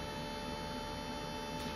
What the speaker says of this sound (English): I'm sorry about the really, really obnoxiously loud extractor fan